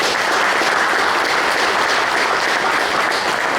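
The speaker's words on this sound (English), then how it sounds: "Give him a round of applause" Dense, steady applause fills a Touchdown Club meeting room as a high school football player is welcomed, a continuous loud wash of many hands clapping without pause.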